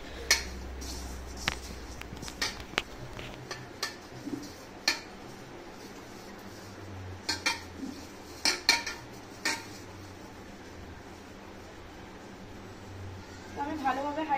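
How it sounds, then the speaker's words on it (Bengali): Ghee being rubbed around the inside of a cooking pot before making biryani, with scattered light metallic scrapes and clinks of utensil against the pot over a quiet room tone. "হাঁড়ির মধ্যে ভালোভাবে ঘিটা পুরো হাঁড়িটার মধ্যে মাখিয়ে নেব"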